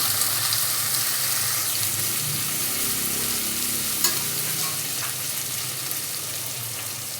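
Onion and green chilli sautéing in a pan for a pea and potato kootu, giving a steady hissing sizzle with light stirring scrapes and one brief clink.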